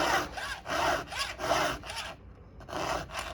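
A round file is stroked by hand across the cutters of a Stihl Hexa chainsaw chain in steady up-and-down rasping passes, six close, even strokes with a brief pause near the end and no talking.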